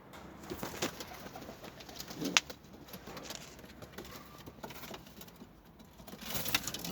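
Pigeons coo softly and repeatedly close by, with scattered fluttering, pattering and small knocks in an enclosed space.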